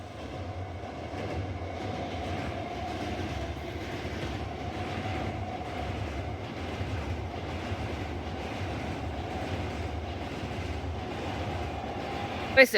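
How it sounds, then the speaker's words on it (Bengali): A train crosses a rail bridge with a steady, sustained rumble and rolling clatter that stays at an even loudness throughout, without a break. "ট্রেন আসছে ট্রেন আসছে"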